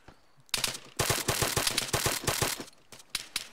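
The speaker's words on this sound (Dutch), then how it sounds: "Ik hoorde ook wat schoten uit zuidoost" Rapid gunfire in a tactical video game, dense bursts of automatic shots rattling in quick rhythm after a short quiet start, loud and close, ending in a few scattered shots.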